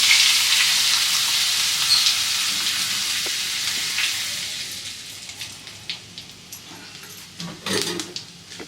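Whole cumin seeds sizzle loudly in hot oil with melted butter, a bright steady crackle that slowly fades, followed by a few light stirring clinks near the end.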